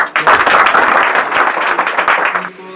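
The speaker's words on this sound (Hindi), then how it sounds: "इस बात को यदि तुम अमल करना चाहते हो तो पुनः एक बार ताली बजा दीजिए" A crowd of children claps at a patriotic school speech for Republic or Independence Day, a loud, close, sustained round of applause that stops abruptly at the end.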